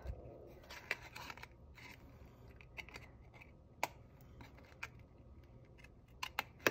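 Paper snips trimming designer paper for a papercraft hand sanitizer holder, a quiet run of short crisp snips and clicks spread across the stretch, close by with no talking.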